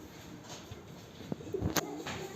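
Racing homing pigeons perch on a rooftop and give soft, brief coos against faint outdoor background noise, with one clearer low call near the end.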